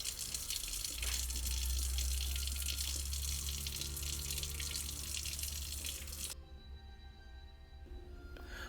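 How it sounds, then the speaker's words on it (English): Tap water gushes loudly into a sink as salted eggplant pieces are rinsed, a steady splashing rush that cuts off abruptly near the end and leaves only faint drips and handling noises. "we're going to rinse all of these, wash the salt off"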